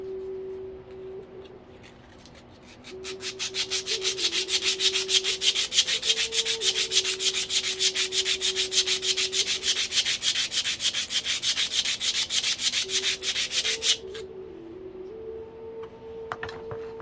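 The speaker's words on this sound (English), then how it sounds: "I got some sandpaper. What is that? 60 grit, I think." Coarse 60 grit sandpaper scrubs rust off metal in a steady, fast back-and-forth rasp that runs loud and close for about eleven seconds, with quieter handling before and after.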